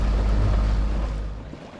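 Sailboat motoring on open ocean while waiting for wind, with a steady low engine drone and broad wind and water rush that ease off toward the end.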